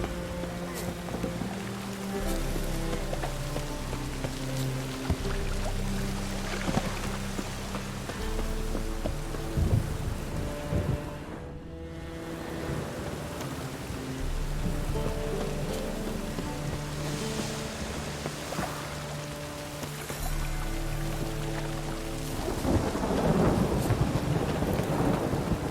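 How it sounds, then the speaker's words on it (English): A thunderstorm in The Witcher 3, with heavy rain hissing and low thunder rolling and rumbling throughout, loud and close, a brief lull in the middle and a swelling crash near the end. "A storm, damn it."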